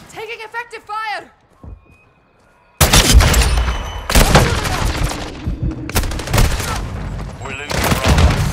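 Gunfire and combat sounds from the video game Call of Duty: Modern Warfare II, with loud dense bursts starting a few seconds in and continuing alongside other game noise, after a brief voice cue at the start.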